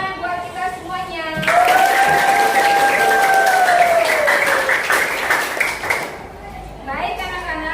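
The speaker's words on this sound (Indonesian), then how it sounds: "Nah, tepuk tangan buat kita semuanya." A classroom of children breaks into loud, lively applause for about four seconds, with a teacher's voice speaking before and after the clapping.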